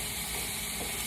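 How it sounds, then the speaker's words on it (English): Food being stirred and mixed in a hot frying pan gives a steady, dense sizzle with soft scraping, close and continuous with no talking. "I'm just gonna mix that up in the frying pan"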